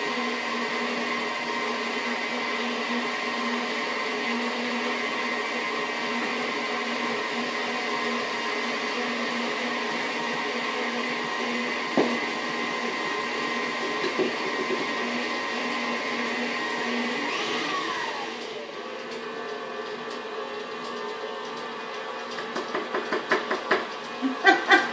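An electric mixer whirs steadily through lemon lavender shortbread dough, a loud, continuous motor drone that shifts lower in pitch near the end, with a few small knocks and clatters.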